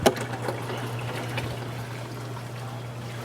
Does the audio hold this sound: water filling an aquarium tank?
yes